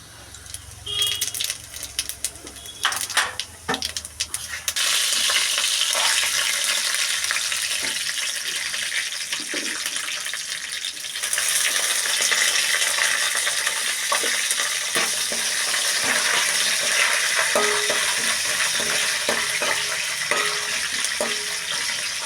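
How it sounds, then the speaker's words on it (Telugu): Chana dal and urad dal tempering in hot oil with garlic, a steady loud sizzle filling the pan after a few scraping stirs, briefly easing before surging again and crackling on continuously without talk. "శనగపప్పు మినపప్పు పోపు పెట్టుకోవాలండి"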